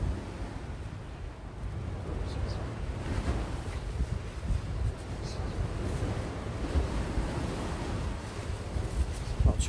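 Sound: wind blowing at a cold fishing spot

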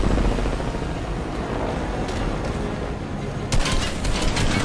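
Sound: helicopters in the video game Fortnite

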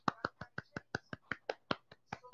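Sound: audience clapping

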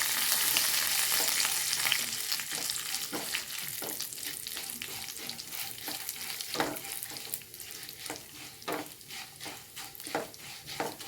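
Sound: coconut pieces and curry leaves frying in a pan

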